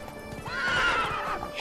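Roach the horse in The Witcher 3 giving a sharp rising whinny over soft galloping hoofbeats, brief and fairly close, with no talking.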